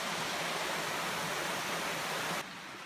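Brown Creek flowing on the Appalachian Trail, a steady broadband rush of moving water, close and even, cutting off abruptly near the end into quieter ambience.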